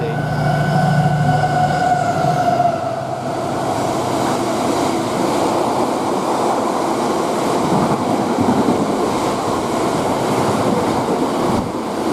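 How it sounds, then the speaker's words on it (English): A Class 70 diesel freight locomotive, number 70020, hauls a train past Nuneaton on the West Coast Main Line, a loud steady rumble and roar of wagons rolling close by throughout, with a brief tonal horn-like note at the start. "the next train to pass by, we've got a 70 heading from Tunstead to Northampton Castle Yard"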